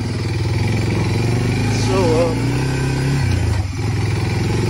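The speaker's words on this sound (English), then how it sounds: "Bear with me, bumpy video and one-handed four wheeling." An ATV four-wheeler engine labours steadily up a bumpy, rocky hillside driveway, a continuous close mid-pitched drone with small surges, while someone talks over it.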